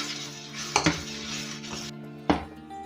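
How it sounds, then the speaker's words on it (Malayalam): Milk thickening in a pot for homemade vanilla ice cream is stirred with a utensil, giving a few distinct metallic knocks and scrapes against the pot over a low background hiss. "ഒന്നും കൂടെ ഒന്ന് കുറുകി വരുന്നവരെ നമുക്ക് ഇളക്കി കൊടുക്കാം."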